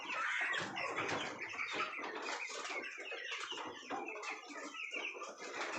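A few backyard chickens kept at home cluck and chatter continuously at close range, their overlapping calls forming a busy, steady layer with no talking.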